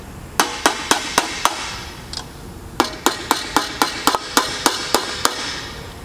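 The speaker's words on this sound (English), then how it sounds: "take our little hammer and lightly tap on our 2 studs here to get the studs to actually go through the holes on the discs" A small hammer lightly taps metal studs on a hose reel spring can, striking in two bursts of sharp, evenly spaced clinks, about five then eight, close and clear with no talk.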